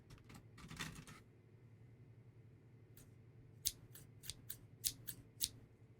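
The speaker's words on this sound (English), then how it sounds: "The blades make an unsettling snip-snip sound as she waggles them in my face." A few sharp metallic scissor snips in the video game 428: Shibuya Scramble, quick and close, in an irregular cluster after a stretch of quiet low hum.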